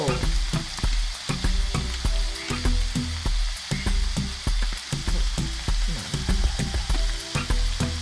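Bell peppers hit a hot pan and sizzle steadily, with stirring clatter and scraping close by filling the whole stretch; no talking.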